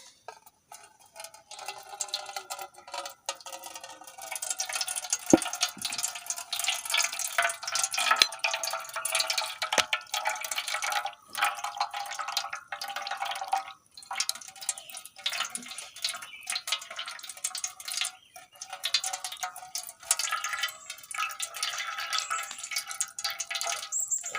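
Ground banana stem pulp being strained for juice, with wet dripping, squishing and stirring noises and light clinks of a utensil, close and fairly continuous with short pauses.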